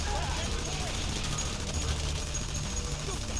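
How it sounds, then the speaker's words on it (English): Mounted turret gunfire rattles in a shooter video game, a steady stream of rapid shots running under game noise and talk. "You up there shooting with a turret."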